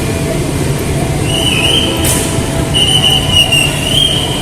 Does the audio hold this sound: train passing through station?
yes